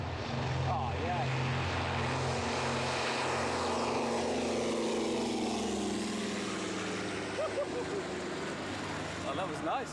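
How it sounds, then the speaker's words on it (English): Avro Lancaster bomber's propeller engines roaring loudly at close range during takeoff, a dense sustained drone with pitch shifting as power builds and the aircraft rolls away. "Doesn't it sound brilliant, that plane?"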